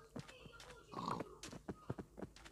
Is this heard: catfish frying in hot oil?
no